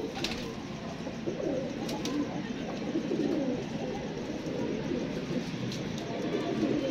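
Soft, low pigeon coos repeat under a steady murmur of background noise, with a faint voice and distant rumble mixed in.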